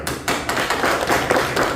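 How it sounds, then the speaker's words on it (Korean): Members of a women's church fellowship clapping hands together in a church, a dense, steady patter of many hands that fills the short stretch loudly. "우리 여전도 회원들끼리 서로 한번 박수합시다"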